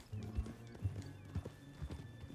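Horse hooves clip-clopping in Red Dead Redemption 2, a quiet, steady walking rhythm of hoof strikes with faint background ambience and no talking.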